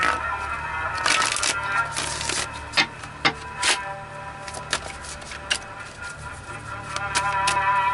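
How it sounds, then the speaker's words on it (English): A deck of reading cards is shuffled by hand, giving a run of crisp, irregular clicks and flutters close by, with a steady low hum underneath and no talking. "Let me shuffle."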